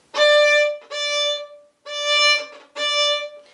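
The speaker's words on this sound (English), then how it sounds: "If I like make the movement go really fast and stop at once, it would sound like this." Four bowed violin notes on a steady pitch, each bow stroke swelling fast and stopped sharply, separated by short silences.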